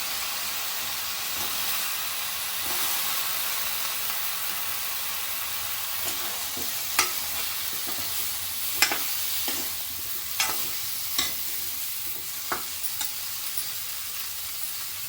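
Drumstick pods, potato chunks and brinjal pieces go into grated coconut frying in a pan, giving a steady soft sizzle with scattered stirring scrapes and small clinks and no talk.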